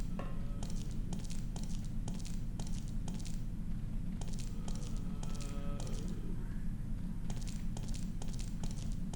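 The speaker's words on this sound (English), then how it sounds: "You can hear the 3rd hunter just thumping around." Soft, irregular taps and thuds from a Hunter monster moving around out of sight in Resident Evil: Dead Aim on PS2, faint and scattered over a constant dense low drone of game ambience.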